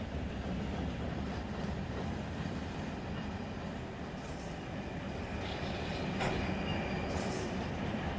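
A freight train rolls past in the Run 8 Train Simulator game, a steady loud rumble of wheels on rails with faint clicks and brief metallic squeals throughout, no talking.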